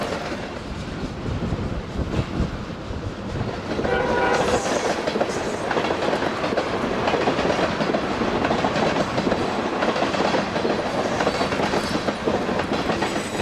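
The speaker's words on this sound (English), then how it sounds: "The engineer toots as the train passes the crew quarters and museum." A freight train rolls past crew quarters and a museum on the Feather River Route in Portola, California, loud and close, with steady wheel clatter and rumble and a horn toot from the engineer.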